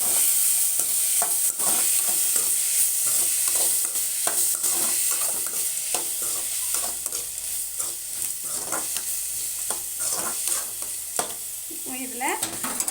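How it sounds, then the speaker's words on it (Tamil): Onions frying in a pan for country chicken curry, stirred with a steady close sizzle and frequent irregular scrapes and clinks of the spoon against the pan, with no talking. "நல்லா கிளறி விட்டுக்கலாம்."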